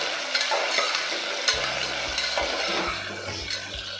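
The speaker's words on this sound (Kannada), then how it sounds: "ಇದರಲ್ಲೇ ಒಂದು ಬದನೆಕಾಯಿ, 2 ಆಲೂಗಡ್ಡೆ ಹಾಕ್ಕೊಂಡು ಫ್ರೈ ಮಾಡ್ಕೋಬೇಕು" Eggplant and potato pieces fry in oil with curry leaves in a pan, a steady close sizzle with scraping stirs and light clinks of a spoon against the pan, no voices.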